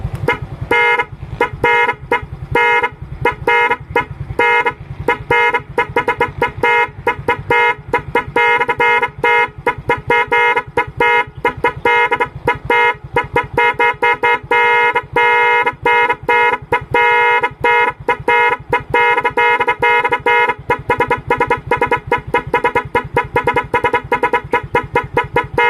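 A motorcycle's dual horn on a music horn relay blares a rapid, loud sequence of choppy honking tones, the patterns stuttering and repeating over about twenty-five seconds.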